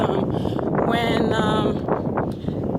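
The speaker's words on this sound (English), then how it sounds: "It's very windy right now" Strong wind buffets the microphone with a constant roar, while a person speaks underneath the gusts.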